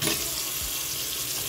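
Water pours steadily from a sink tap in a pantry, a close, continuous rushing hiss with no talking.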